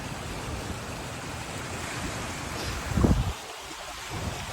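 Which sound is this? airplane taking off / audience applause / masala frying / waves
waves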